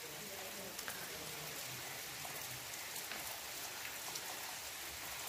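Gentle, continuous patter of light rain falling outdoors, soft and even throughout.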